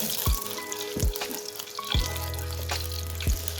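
Sufi oil heating in a pan for tadka, a close, continuous frying sizzle with a few soft taps from the pan at regular intervals, no talking.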